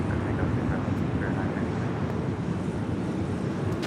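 Fairwinds aircraft on its takeoff roll from runway 25 right at LAX in a 14-knot wind, a steady broad engine roar mixed with wind buffeting, with no voices heard.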